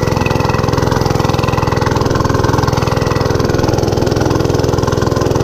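A Monster Moto 105 mini bike engine runs loud and close with a rapid, even, throbbing putter, holding steady without pause.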